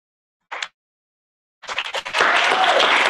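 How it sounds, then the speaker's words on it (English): Audience applause at a live-streamed alumnae chapter candidate forum: a single brief clap, a pause, then scattered clapping that swells into full, sustained applause. "Let's give them a round of applause."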